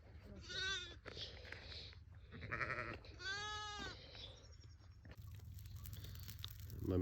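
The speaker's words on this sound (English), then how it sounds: "The sheep are watching." Sheep bleating loudly and close, several long wavering calls one after another with short gaps between, then a rustling, crunching background near the end.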